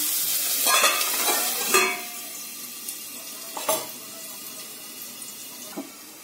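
Potato pieces fry in hot oil in a pan with a bright, hissing sizzle that slowly fades, broken by a few clinks and scrapes of stirring.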